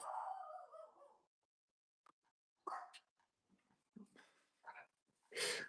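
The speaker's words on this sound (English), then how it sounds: "my dog heard somebody and she went nuts" A dog barks at the door in a series of short, fairly faint barks and yelps, separated by brief silences.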